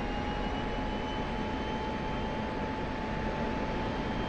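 A jet engine in DCS roars as a steady, loud drone with a faint whine on top, throttled up and sustained with no talking.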